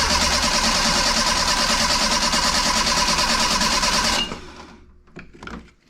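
A 1984 Bertone X1/9 engine with a slipped timing belt cranks loudly and steadily on the starter for about four seconds, then stops, leaving a few faint clicks and knocks.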